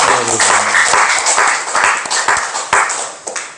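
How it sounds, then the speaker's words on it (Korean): A church congregation claps steadily in a burst of applause during a Sunday worship service, many hands together, close and fairly loud. A brief tone rings at the start. "우리 하나님께 감사의 박수를 올려드리겠습니다"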